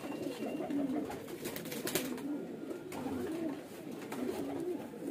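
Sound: pigeon cooing

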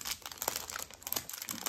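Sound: crinkling plastic bag while unpacking a Temu parcel

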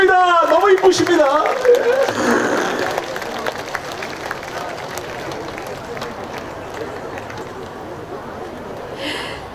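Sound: audience applause for a singer at a concert

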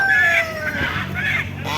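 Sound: rooster crowing at a live animal market

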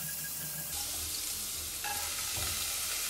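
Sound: oil sizzling in a hot pan

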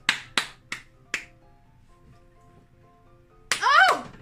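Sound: hands clapping

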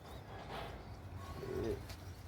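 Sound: pigeons

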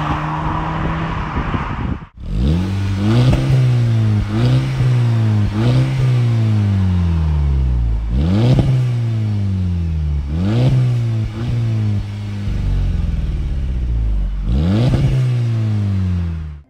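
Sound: small car engine revving while accelerating

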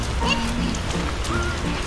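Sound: rain

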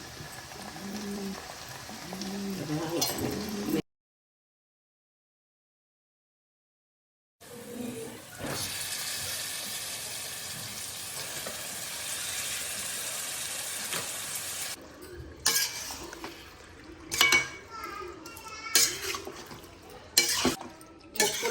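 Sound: stirring frying pepper chicken in a pan

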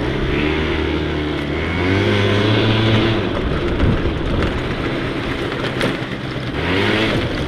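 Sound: scooter engine running while riding after rebuild

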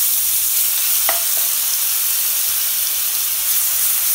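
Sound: ginger garlic paste sautéing in oil

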